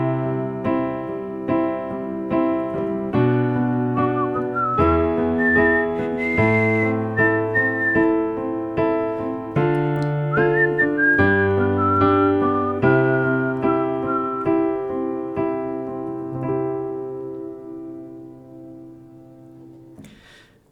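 A person whistles the melodic introduction to a song over sustained chords, the whistled line clear and up close, with the whistling and chords gradually fading toward the end.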